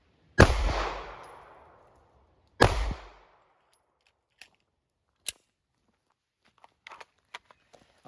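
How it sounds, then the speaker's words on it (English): Two sharp gunshots from a weapon fired right after being drawn, each loud and close with a long decaying echo, followed by faint clicks and shuffling handling sounds. "that is just me picking up my weapon and firing right away"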